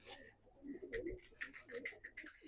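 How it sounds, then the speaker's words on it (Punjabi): Blue pigeons, kept as prize-winning competition flyers, coo in soft repeated rolling phrases close by, with faint voices in the background. "ਇਹ ਕਬੂਤਰੀ ਆ ਜੀ ਬਾਈ ਬਿੱਕਰ ਵਾਲੇ ਕਬੂਤਰ ਨੀਲੇ"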